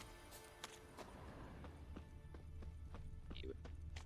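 Roach, the horse in The Witcher 3, galloping with a steady rhythmic clip-clop of hooves, growing slightly louder over a few seconds, faint overall with quiet game ambience.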